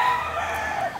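Fighting-breed chickens at a gamefowl breeding yard, clucking and crowing continuously through a short, loud, close stretch with no talk.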